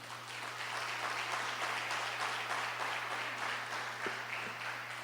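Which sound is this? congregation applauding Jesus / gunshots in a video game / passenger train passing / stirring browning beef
congregation applauding Jesus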